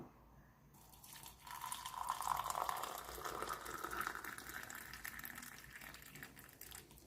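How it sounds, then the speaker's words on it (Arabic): Boiling water poured over a couple of tablets: a faint, continuous trickling pour that swells in the middle and then tapers off over several seconds, with no talking. "هننزل عليهم بالميه المغليه"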